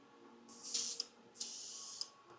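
An airbrush used while painting a miniature sprays in two short bursts of airy hiss during cleaning, each ending with a small sharp pop, close and fairly quiet with no talking.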